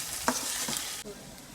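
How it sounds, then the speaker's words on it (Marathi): Chopped onion and tomato sizzle and fry in hot oil in a pan as a spoon stirs and scrapes through them, close and steady with a couple of sharp scraping accents. "कांदा टोमॅटोची आता आपण हे तेल सुटेपर्यंत भाजून घेऊया।"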